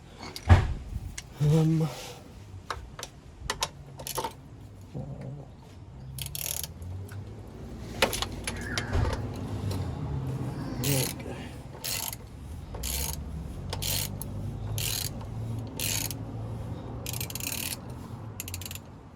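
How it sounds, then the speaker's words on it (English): VW Golf oil filter removed during a home car service, with ratchet clicks, tool clanks and metallic scraping close by while someone talks over much of it. "the next step is to remove the oil filter"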